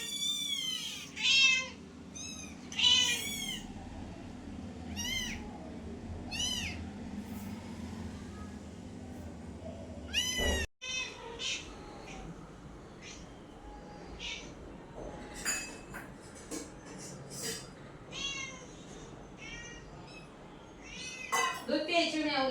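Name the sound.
cat meowing for milk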